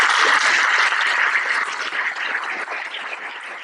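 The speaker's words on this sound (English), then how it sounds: "How about a round of applause?" Audience applause for volunteers at a fall awards ceremony, a short burst of many hands clapping that starts full and gradually tapers off, with no talking.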